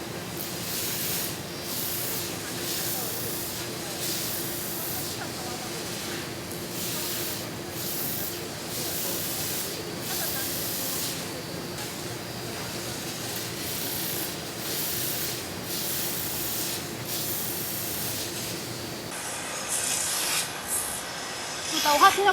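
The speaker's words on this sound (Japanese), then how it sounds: "ここにこうヤスリがこっちはセットしてあって、各面をこうヤスリに当ててこう先を細く削っていく" A machine file grinds the tips of bamboo chopsticks, a continuous close rasping hiss with faint rhythmic scraping pulses as each face is pressed to the abrasive, getting louder and harsher near the end.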